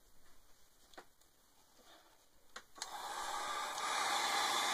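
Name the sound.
heat gun drying cardstock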